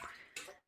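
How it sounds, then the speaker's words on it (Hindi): Water poured into a pot of stinging nettle curry, a short wet splash and gurgle lasting about half a second before cutting off, close and fairly quiet. "पानी अब अपने उस हिसाब से डालना पड़ेगा"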